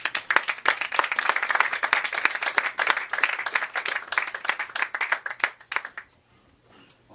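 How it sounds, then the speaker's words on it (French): Audience applause for a poet at a poetry evening, a small crowd clapping in distinct, fairly sparse claps with audible individual hands, steady for several seconds and then stopping abruptly, leaving near silence. "On l'applaudit encore une fois, mesdames et messieurs."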